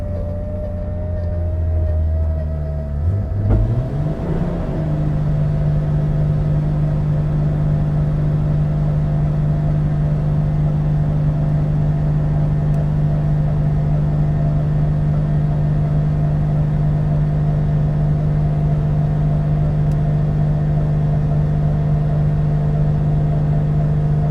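A turbocharged BMW M3 engine cranks and fires up after a few seconds of background noise, then settles into a steady, loud, droning idle that holds for the rest of the clip, with no talking.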